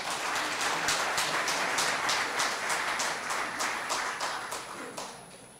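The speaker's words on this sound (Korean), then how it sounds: "여러분 큰 박수 부탁드리겠습니다" An audience at a political founding event claps steadily throughout, an even wash of applause that tapers slightly at the end.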